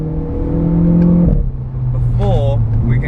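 A 220 hp Renault Clio RS revs and drives on a closed racetrack, its engine note climbing steadily before dropping off, followed by steady cabin drone with someone talking over it.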